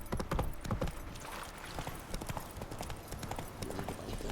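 Hoofbeats of a horse galloping in The Witcher 3 video game, a steady rapid clip-clop rhythm running throughout at close range over a busy game soundscape.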